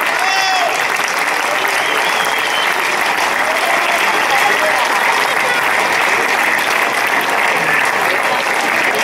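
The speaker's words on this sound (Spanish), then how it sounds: "Un aplauso para todos la asociación" Sustained applause from a festival audience at a town fiesta ceremony honoring an association and parents, dense and steady throughout, with some voices mixed in the crowd.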